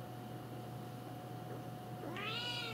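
A domestic cat gives a single short meow near the end, faint and close, over a steady low electrical hum in an otherwise quiet room.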